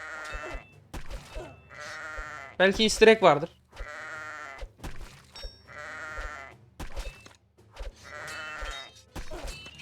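Repeated sheep bleats in the video game Kingdom Rush, one loud and wavering, rise over someone talking, with clicks between calls.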